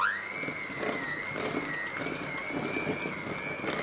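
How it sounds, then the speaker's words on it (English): An electric whisk whirs through cream cheese in a bowl, a continuous high whine with faint rhythmic knocks as it moves, close and moderately loud, no talking. "So we've got the cream cheese, which I'm just going to whisk."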